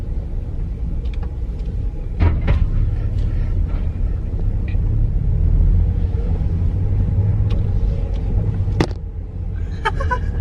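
A manual car pulling away as a learner driver gives it a little gas: a steady low engine rumble throughout, swelling slightly midway, with a few faint clicks and knocks on top.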